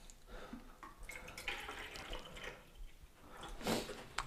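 Deionized water is poured to mix a tack solution for paint protection film, a faint, uneven trickle and splash of liquid heard from near.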